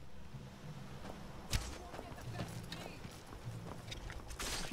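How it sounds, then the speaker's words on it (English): Hooves of a horse running indoors in modded Skyrim clatter in a soft, uneven clip-clop, fairly faint beneath a low game ambience, with one sharper knock partway through. "we could have saved that horse from having to run indoors"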